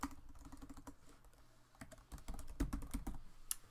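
Keys clatter on a computer keyboard in quick irregular bursts, with a few heavier strokes near the end, quiet and close with no talk.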